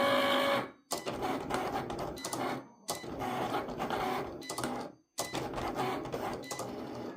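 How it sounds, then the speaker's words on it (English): An electric cutting machine cuts out holes with a steady mechanical whirring and rattling that runs in three long passes, each ending in a brief silent pause, with no talking. "It's cutting out the holes."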